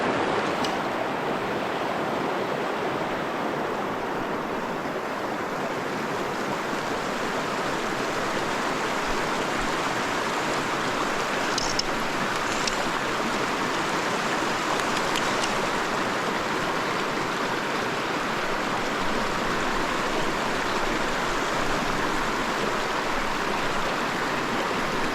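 Steady broadband rush of a creek flowing at a Forest Service road crossing with a bridge, a continuous even wash of water close by with no voices.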